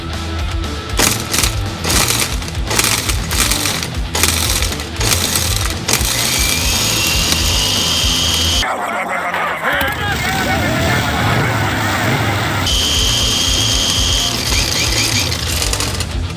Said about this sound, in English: what I'm using is a Ryobi or Ryobi angle grinder, and I'm using a battery